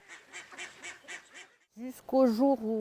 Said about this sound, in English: My ducks make noise and this bothers the neighbor.